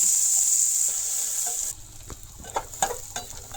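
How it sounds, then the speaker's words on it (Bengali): Onion and garlic dropped into hot oil for a Bengali jute-leaf and jackfruit-seed curry: a steady bright hiss at first, then after a sharp change, a lower crackling sizzle with stirring clatters. Nearby, with no talking. "তেলটা গরম হয়ে গেছে, এখন পেঁয়াজ আর রসুনটা দিলাম।"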